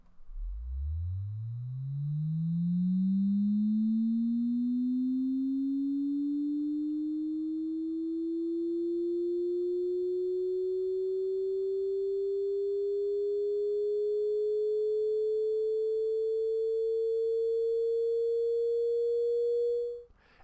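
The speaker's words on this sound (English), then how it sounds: "We can also listen to the second harmonic as decomposed from our distorted sweep." A single pure tone, the second harmonic extracted from a distorted seismic vibrator sweep, sweeps steadily upward in pitch, rising fast at first then gliding slowly higher for about twenty seconds at constant loudness.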